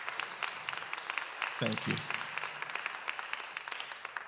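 Audience at a school district state-of-the-schools address applauding, steady dense clapping throughout with a brief spoken phrase from a man partway through.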